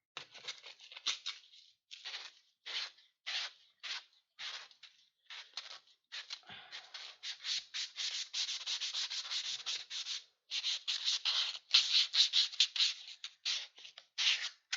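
An axe being sanded by hand with sandpaper finer than 100 grit, rhythmic rasping strokes repeating close and steady, with no talking.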